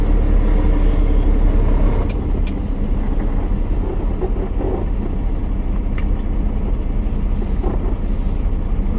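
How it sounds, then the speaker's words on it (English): Heavy trucks rumble steadily nearby in a busy Gilroy-to-Tracy freight yard during a local run, with wind buffeting the microphone and a few faint hisses and clanks rising above the constant low drone. "There's trucks coming and going."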